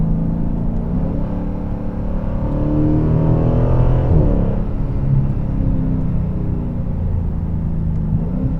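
A car engine revs in manual mode in fourth gear, a deep rumbling drone that swells to a peak midway and then settles back, close and steady, with no talking.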